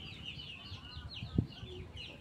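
Chickens clucking softly outdoors among pigeons and ducks, with chirping birds above and a brief louder cluck near the middle, against steady low background noise.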